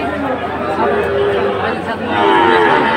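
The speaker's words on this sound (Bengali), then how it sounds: "ষাঁড় বাচ্চা।" A Sahiwal bull calf moos at a busy cattle market in Munshiganj, its drawn-out lowing rising over continuous crowd chatter and haggling voices nearby.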